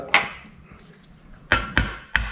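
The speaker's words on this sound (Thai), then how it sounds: "เดี๋ยวเราก็จะมาลงเป็นไข่ไก่นะครับ" A chicken egg cracked against a bowl's rim for a marinade: one sharp tap, a pause, then three quick close knocks in a row, with no talking.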